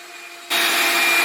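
Vacuum cleaner working inside a car during cleaning, a quiet hum that suddenly jumps to a loud, steady rushing suction roar halfway through, close and with no talking.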